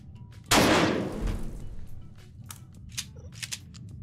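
A single heavy gunshot blast from a shotgun in the game Blood Trail, loud and booming, followed by a decaying rumble and a few faint clicks and smaller impacts.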